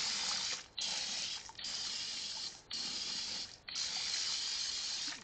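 Water sprays hard into a pot of moonshine mash in a steady hiss, broken by four short pauses as the stream is briefly cut, then resuming close by.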